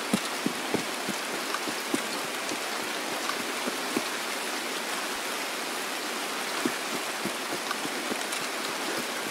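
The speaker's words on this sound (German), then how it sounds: "jetzt höre ich eh nur noch Regen" Steady rain in the video game Escape from Tarkov, a dense continuous hiss with scattered sharper droplet ticks, holding evenly throughout with no voices.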